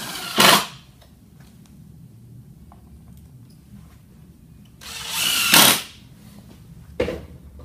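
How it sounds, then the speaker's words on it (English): Power drill driving a screw through a plate into a 6x6 wooden beam, two loud bursts of whirring drilling separated by quiet, the second longer, followed by a short final tap. "Now we want to screw this plate down to the 6x6 beam."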